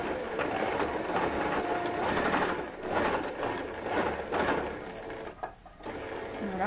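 A sewing machine runs steadily, stitching a seam on a ruffled dress with short forward and reverse runs; the motor's busy mechanical whir stays close and continuous, with only a brief dip near the end.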